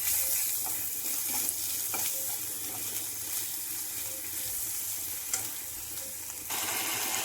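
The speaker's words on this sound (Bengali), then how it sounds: "নেড়ে চেড়ে মিশিয়ে নিচ্ছি।" Ground spices fry and get stirred into fried onions in a pan, for moong dal cooked with a fish head. A steady, close sizzle runs throughout, with soft scraping of the stirring utensil and no voices.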